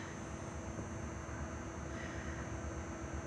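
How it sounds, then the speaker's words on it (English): A train rumbles steadily past, a continuous low roar of wheels and cars on rails with no break, moderately close. "to have the trains moving"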